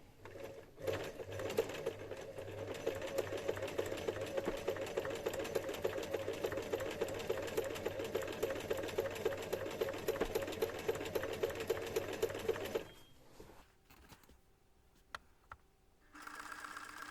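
A sewing machine stitching a cushion cover runs in a fast, steady close-up whir for about thirteen seconds, then stops, leaving faint handling noises and a brief restart near the end.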